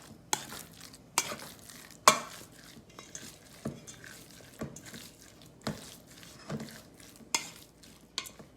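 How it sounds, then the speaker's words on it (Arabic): A spoon scrapes and knocks against a pan while a beef burger patty is flipped, giving a series of sharp metallic clacks over a faint background sizzle. "هسه رح نقلب البرجر بالخاشوقة"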